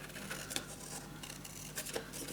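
Scissors cut out paper for a craft treehouse box, with quick, soft, close snips and a faint rustle of paper.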